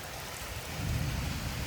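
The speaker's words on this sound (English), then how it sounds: "And there's some thunder cracks and lightning." Heavy rain pours steadily during a severe thunderstorm in Frisco, Texas, with a low rumble of thunder swelling midway through the short stretch and no voices.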